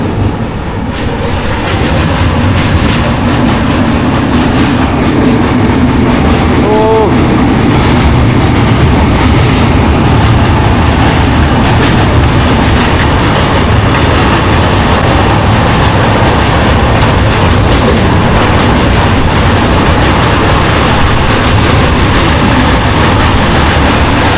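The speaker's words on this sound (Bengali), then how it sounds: "ও এরকম ব্রিজের উপর দিয়ে যখন এভাবে ট্রেন ছুটে যায়" A long passenger express train rolls across a bridge at speed, giving a loud, continuous roar with a steady rumble and faint rhythmic clatter of wheels, close and unbroken from start to finish.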